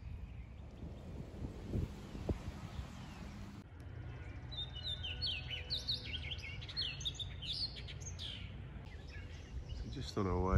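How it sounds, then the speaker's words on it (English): An orchard oriole sings outdoors in North Carolina in May, a run of bright, rapid, varied chirping phrases at moderate distance. Wind rumbles underneath and a voice talks over it. "there's an orchard oriole singing"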